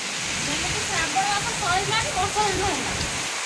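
Steady rain during the monsoon month of Shravan makes a dense hiss that stays even throughout, with people talking quietly beneath it.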